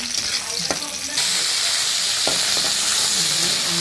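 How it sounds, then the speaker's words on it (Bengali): Onion dropped into hot oil in a wok, meant to brown for a hilsa and green banana curry, bursts into a loud, steady, close sizzle after a few clinks, with no voices. "পেঁয়াজটা দিয়ে দিচ্ছি পেঁয়াজটা একটু লাল করে ভেজে নেব"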